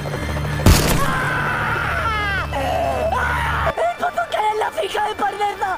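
A man screams in agony in a film scene after his fingers are shot, his cries rising and warbling over a low rumble before an abrupt cut to other sound.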